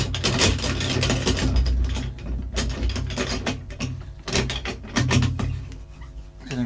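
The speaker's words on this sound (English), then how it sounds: "Right, so I think we'll pop that back in the vise." A metal vise is cranked tight around a workpiece, giving a run of loud ratcheting clicks and grinding mechanical clunks in uneven bursts.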